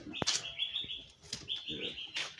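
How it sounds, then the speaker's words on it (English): Birds sing outdoors, a nightingale among them, with bright, sustained high whistling phrases broken by sharp chirps and brief flutters, fairly close and clear. "Bird they sing sweet here, man. Nightingale."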